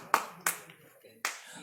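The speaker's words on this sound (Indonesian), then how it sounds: "kasih tepuk tangan yang meriah sekali lagi buat Diego Michels" Applause for footballer Diego Michiels at a press conference: three sharp bursts of clapping, loud and close, separated by short gaps with a faint hum of background voices between them.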